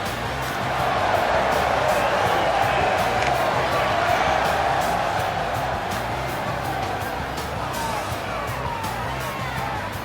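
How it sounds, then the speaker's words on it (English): A packed wrestling arena crowd in WWE 2K20 roars and cheers steadily, a loud continuous wash of voices that holds for the whole stretch with no break. "Listen to this crowd, guys. They're fired up for this one."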